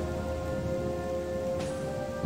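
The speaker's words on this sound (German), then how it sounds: "Es regnet." Steady rain falls in the video game Odyssee, a constant soft hiss with no pauses. No one speaks over it.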